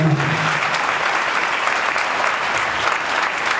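A large audience claps loudly and steadily, dense continuous applause filling the whole stretch at close range, with a brief bit of voice at the very start.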